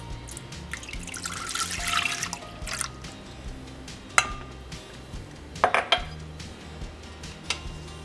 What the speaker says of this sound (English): I have my saucepan here. I'm making my filling, and I'm going to have my 2 cups of milk.